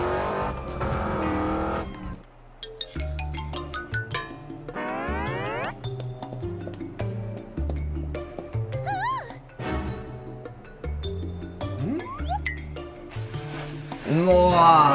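A cartoon car in a Peppa Pig episode drives with no one at the wheel. Its bouncy, musical motor tones, rising whoops and springy effects play over a busy music bed, loud and continuous throughout.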